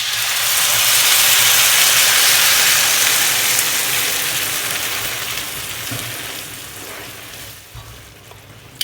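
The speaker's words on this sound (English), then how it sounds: "at this stage I'm going to add the vegetable broth" Vegetable broth poured into a hot pan with butter and spices for a red lentil curry, giving a loud, steady sizzling hiss that gradually fades over several seconds.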